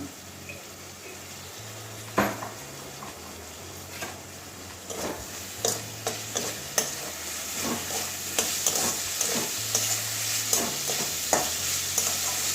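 Pasta being stirred with soy sauce in a frying pan, a soft steady sizzle under repeated scraping and clinking strokes of a spoon that grow busier toward the end.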